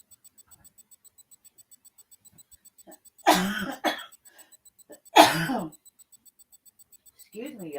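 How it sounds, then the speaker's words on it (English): A person coughs twice in short harsh bursts, close and fairly loud, with a faint rhythmic ticking in the quiet background and a brief voice near the end. "I can't get this cough out of my damn throat."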